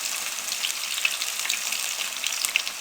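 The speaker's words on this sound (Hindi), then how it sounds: "बहुत अच्छे तरीके से फ्राई हो रहा है" Pieces of crispy fried chicken cook in oil over a low flame, giving a constant, even sizzle with faint scattered pops, close and steady from start to finish.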